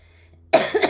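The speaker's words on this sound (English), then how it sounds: "Sorry, I still have a little bit of cough." After a near-silent moment, a person gives a single sharp, close cough that ends in a short second burst, heard alone with no talk.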